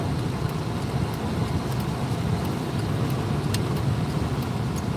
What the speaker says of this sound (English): Just waiting for these cars to go.